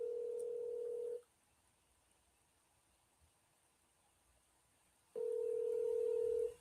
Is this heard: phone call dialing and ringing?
yes